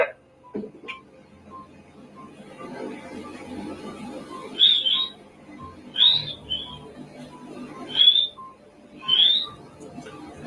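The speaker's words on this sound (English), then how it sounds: "You'll hear here the whistling first of all," Whistling captured on a poltergeist investigation tape, played back as a series of four short, high, sharp whistles spaced about a second apart over a low hiss of tape noise.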